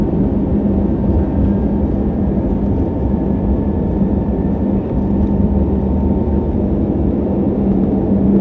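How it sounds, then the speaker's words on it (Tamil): Passenger airplane taking off from San Francisco airport, heard from inside the cabin as a loud, steady low engine roar with no spoken words. "அவ்வளோதாங்க, டேக் ஆஃப் ஆக போகுதுங்க."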